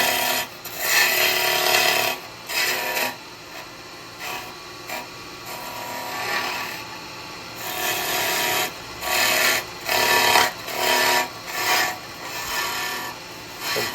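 Wood being cut down on a lathe while turning the head of a snowman lidded gift box, loud scraping bursts of tool on spinning wood, starting and stopping repeatedly, with no talk.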